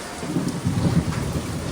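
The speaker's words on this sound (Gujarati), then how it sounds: "જોઈ લ્યો મિત્રો, વીજળીના કડાકા" Thunder rumbles low and heavy through a steady rain shower during a storm that earlier brought hail, the broad roar swelling and easing for a couple of seconds with raindrops hissing throughout.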